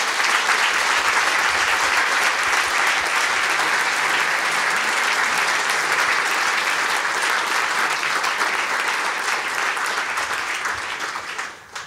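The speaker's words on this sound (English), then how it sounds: "we're going to break and do a special applause for that group" A conference audience at Brussels Forum 2015 gives volunteers a long round of dense, steady applause that holds for about ten seconds, then starts to thin and fade at the very end.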